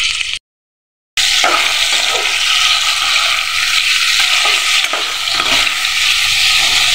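Potatoes and onion fry with salt in a pan, a loud, close, continuous sizzle with stirring scrapes, broken by a short silence near the start.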